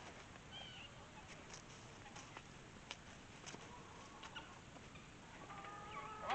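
Pastured egg-laying chickens cluck softly and intermittently at a distance, with scattered short calls over a low outdoor background, becoming slightly louder near the end.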